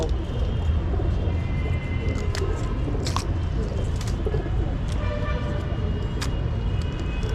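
Pigeons in a loft give scattered coos and short calls against steady background noise, with a vehicle rumbling somewhere nearby.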